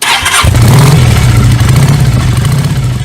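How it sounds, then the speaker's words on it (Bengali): A motorcycle engine is started: a brief cranking burst, then it catches and settles into a loud, steady close idle for a few seconds. "বাইকে স্টার্ট দেব"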